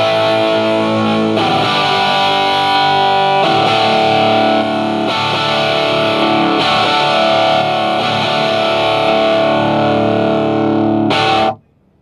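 An electric guitar plays through a Marshall Slash or Malmsteen signature amplifier switched to 50 watt mode with two power tubes cut, producing loud, compressed, distorted sustained chords struck several times before cutting off abruptly.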